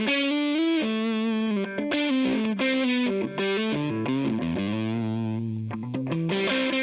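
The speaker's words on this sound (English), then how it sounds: "I'm using it as a distortion." Electric guitar through a Rose Electric Console Fuzz pedal set as a distortion, playing a loud, saturated melodic line of sustained, gritty notes with no talking.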